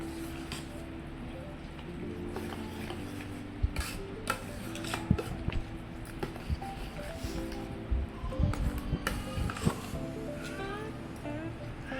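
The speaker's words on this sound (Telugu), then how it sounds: "ఇప్పుడు ఇక ఈ పెరుగు ఇందులో పెరుగు కలుపుతున్నాము" Curd being stirred by spoon into cooled sago in a metal pot, with steady scraping and clinks of the utensil against the pot and a few sharper knocks, close and moderately loud under a low background hum.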